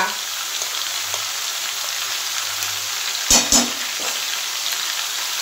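Sesame paste, mustard paste and green chilli paste being stirred in a frying pan, a steady broadband sizzle with a couple of sharp scraping knocks midway; no one speaks.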